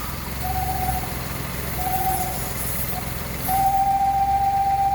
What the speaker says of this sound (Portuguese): Esse barulho aí, ele é proveniente da tampa de válvulas.